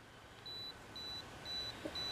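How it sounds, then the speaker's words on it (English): A camera's 10-second self-timer beeps four times at a steady interval, high and thin, while a photographer shoots lichen outdoors. Quiet, hissy background noise runs underneath. "I believe we have a 10-second timer."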